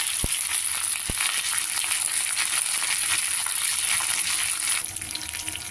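Tempering spices frying in oil in a pan, sizzling and crackling steadily, a loud continuous hiss with a couple of sharp pops near the start.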